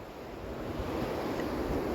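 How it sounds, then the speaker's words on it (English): Steady rushing water roars continuously, broad and full like a nearby waterfall, with no voices. "I'm sorry if it's getting loud. I'm by a bunch of waterfalls."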